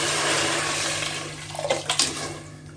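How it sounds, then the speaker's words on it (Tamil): Water poured into a pot of mutton rice porridge (nonbu kanji) with soaked broken rice, a steady splashing stream with gurgling bursts near the end, close and moderately loud. "இதுக்கு வந்து தாராளமாக இன்னொரு சட்டி கூட நம்ம தண்ணி ஊற்றலாம்."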